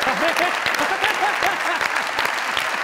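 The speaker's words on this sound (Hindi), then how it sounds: "जोरदार तालियां।" Loud audience applause rattles continuously throughout, mixed with a voice that runs underneath the clapping.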